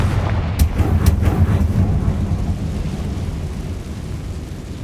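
Confringo fire blast spell in Hogwarts Legacy, a few sharp crackling bursts at the start that roll into a long, heavy low rumble like distant thunder, fading slowly with no voices.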